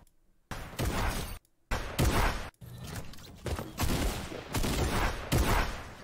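Gunfire in a video game replay comes in several loud bursts, with sharp cracks and rattling volleys separated by short silent gaps.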